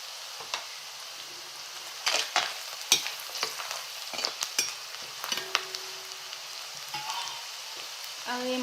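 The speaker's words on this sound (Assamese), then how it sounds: "এয়া পিঁয়াজখিনি অলপ বাদামী কালাৰ অহাত হালধি 3 চামুচ দি দিম।" Onions browning in oil with turmeric in a village-style Assamese chicken curry, a soft, low sizzle broken by sharp clinks and scrapes of a spoon stirring the pan.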